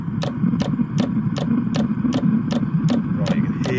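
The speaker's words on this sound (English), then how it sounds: "I think it's starting up. The fuel pump is going." A Webasto diesel fuel-burning heater starts up with its fuel pump running, giving a steady ticking of evenly spaced clicks about twice a second over a continuous low rumble, close by.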